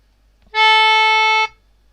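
A single sustained instrument tone held for about one beat, a clean harmonic note that starts cleanly, stays steady and stops, played alone as a quarter-note length demonstration.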